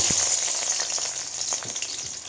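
Onions dropped into hot oil in an Assamese green vegetable dish crackle and sizzle steadily up close, with a few soft spatula taps scattered through the frying hiss.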